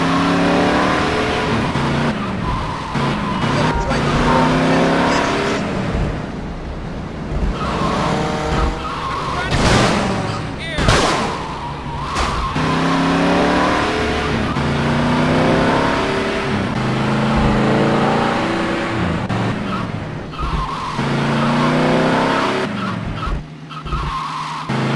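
A car driven fast in the video game GTA Liberty City Stories: a continuous engine roar that rises and falls with revving, with tire screeches and skids over it, while game characters talk.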